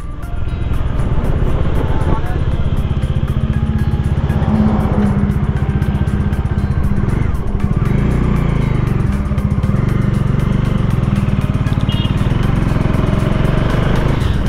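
A 2024 Bajaj Dominar 400 touring motorcycle with a 400 cc engine cruises in fourth gear, its engine drone steady and loud under heavy wind rush, continuous throughout, with faint speech now and then.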